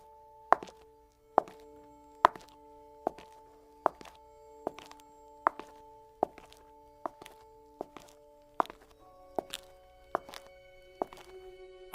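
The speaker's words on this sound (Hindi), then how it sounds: "अचानक अरसलान ने कदमों की आवाज सुनी।" Slow, evenly spaced footsteps, about fourteen heavy thuds each with a short ringing tail, over near silence as a spooky sound effect in a horror story set in a silent village at midnight.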